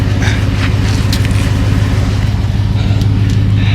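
Ford F150 fitted with a CGS aftermarket exhaust idles in a steady, low, even rumble, fairly loud and continuous with no voices over it.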